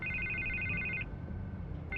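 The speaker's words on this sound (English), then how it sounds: "I can't get the phone to stop ringing." A telephone rings in the Telltale Batman video game, a trilling electronic bell lasting about a second, then a pause before the next ring begins, over a low ambient hum.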